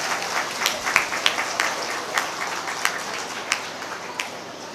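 An audience at a school annual day function claps in a steady, moderately loud, roomy wash of applause lasting the whole stretch, with a few sharper individual claps standing out.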